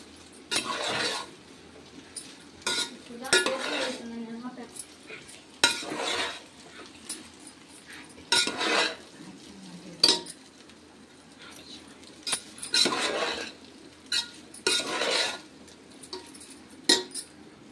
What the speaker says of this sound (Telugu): దీన్ని సిమ్లో పెట్టుకొని జస్ట్ 2 మినిట్స్ ఇలా కలుపుకోవటమే ఫ్రెండ్స్.